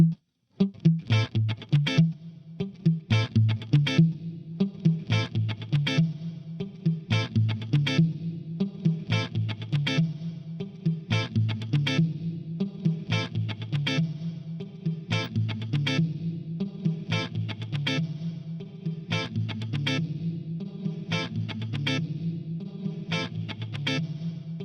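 A guitar drenched in reverb plays steady, rhythmic picked notes in a music mix, each attack trailing into a washy, distorted tail, with no voices.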